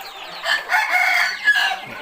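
A rooster lets out a single sustained crow lasting about two seconds, loud and close, with no other sounds around it.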